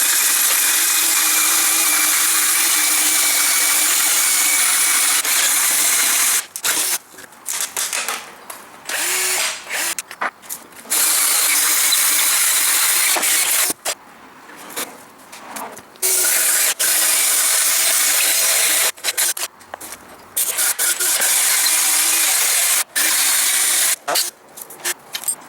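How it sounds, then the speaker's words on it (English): A power drill fitted with a 2 1/4 inch bit bores instrument holes in a Cessna 172 flight-simulator panel, running in loud, close bursts of high whine broken by short pauses. "For the smaller instrument holes, I'm using a 2 1/4 inch drill bit"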